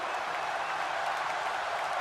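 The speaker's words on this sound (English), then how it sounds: "This crowd is standing on their feet." A wrestling crowd in WWE 2K25 roars after Rey Mysterio's roll-up win over Chris Jericho. It is a dense, steady wash of cheering and applause, loud and continuous throughout with no break.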